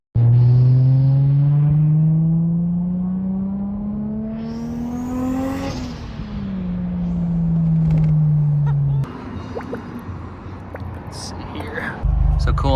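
A Toyota Supra engine revs through a short pull. Its loud, close drone climbs steadily in pitch, peaks, then eases back down before dropping away to quieter mechanical noise.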